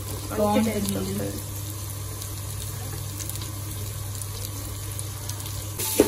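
Shredded cabbage frying in oil with onions in a pan for street-style noodles: a steady soft sizzle with a low hum underneath, fairly quiet and continuous, with a brief clatter near the end.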